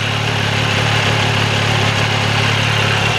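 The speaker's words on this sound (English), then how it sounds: "the reason I'm speaking over the bike while it's still running is hoping to get it up to temperature" A motorbike engine on new tyres idles steadily to warm up, a loud, even low rumble with a constant throb, close by and uninterrupted for the whole stretch.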